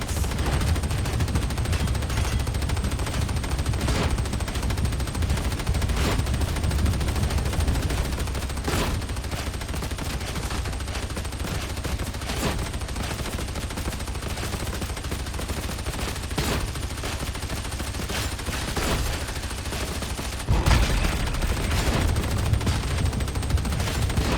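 The Ogryn Leadbelcher gun in a video game fires continuously in a dense, rapid stream of heavy shots, loud and unbroken with almost no pause for reloading.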